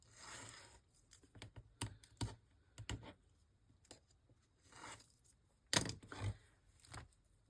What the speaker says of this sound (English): Put very little pressure on vellum if you're using an X-Acto knife to cut it.